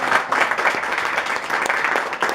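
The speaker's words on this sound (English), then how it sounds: "So give a round of applause for them." A church congregation applauds during a sermon, a steady broadband wash of many hands clapping at moderate loudness that holds evenly throughout without a break.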